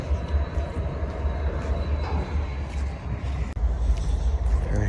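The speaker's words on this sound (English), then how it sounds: "Train going by." A train passes by in a scrapyard lot, a loud steady low rumble and rolling roar that holds throughout with a brief dip near the end.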